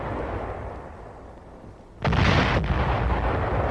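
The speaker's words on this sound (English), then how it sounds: "a lonely howitzer somewhere in Korea lobbing out a few rounds to take care of an enemy outpost" A howitzer fires a round during an artillery action in Korea: a sudden loud, close boom after a quieter stretch, followed by a sustained rumbling roar and a second slight surge.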